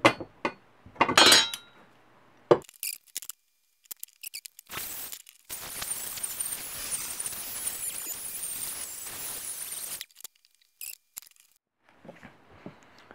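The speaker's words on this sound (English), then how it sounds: "I used a combination of the chisel and the sanding drum on the Dremel" A steady high-pitched grinding whir from a Dremel sanding drum on acrylic runs for several seconds, framed by sharp clinks and scraping taps of a chisel before and after.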